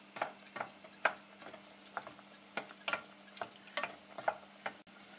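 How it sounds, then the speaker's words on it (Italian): Risotto with white asparagus broth stirred in a pan, about a dozen rhythmic scraping, ticking strokes at a steady pace, close and fairly soft, with no voices. "inizio a dare una bella mescolata"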